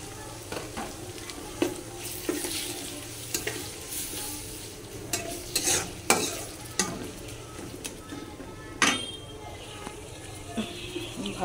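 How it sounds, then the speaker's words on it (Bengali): Ground prawn paste fried in a pan with onions and ginger-garlic paste, a steady sizzle with repeated scraping stirs and a few clinks of the utensil, moderately close. "বেটে রাখা চিংড়ি মাছগুলো দিয়ে দিচ্ছি।"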